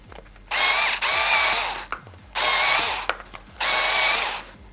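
An INTERTOOL WT-0300 cordless screwdriver with a cutting attachment slices through cardboard in three loud, close bursts of buzzing, ratcheting whine, separated by brief quiet pauses.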